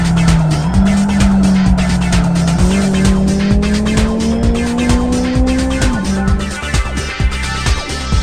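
Formula BMW race cars in the Live for Speed racing game scream past with high-revving engines and repeated tire squeal, the engine pitch climbing steadily through the gears, loud and continuous.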